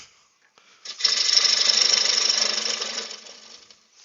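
A wood lathe turning a rough ash bowl at about 1,000 rpm, a gouge cutting with a loud, steady rushing scrape for about two seconds that fades out, close and without talk.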